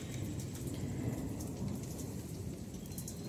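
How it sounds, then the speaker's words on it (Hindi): Steady heavy rain pours down during a summer thunderstorm, with thunder rumbling low beneath the constant hiss of the downpour. "देखिए कैसे बिजली गड़बड़ गड़बड़ कर रही है"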